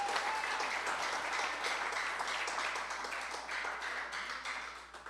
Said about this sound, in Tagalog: palakpak sa ating Panginoon